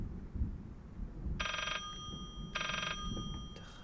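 A telephone rings in the horror video game Layers of Fear on PS4: two short bright bell-like bursts about a second apart, clear over a low rumbling background.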